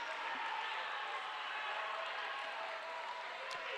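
Basketball crowd in a gym cheering and roaring after a two-handed slam by a Vikings player, a steady, dense wash of noise that holds at an even level from start to finish.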